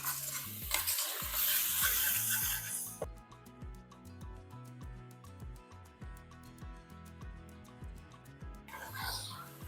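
Ginger-garlic masala sizzles and is stirred in oil for a wedding-style biryani, with a loud hiss at the start and end and softer frying under rhythmic background music in between.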